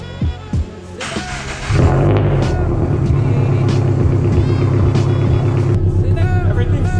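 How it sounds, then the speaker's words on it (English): A Toyota GR86/Subaru BRZ engine cranks and fires at about two seconds, then settles into a loud, steady idle rumble, with a few brief clatters over it. "I'm gonna go ahead and get it started up and then run underneath real quick just to make sure we don't have any leaks"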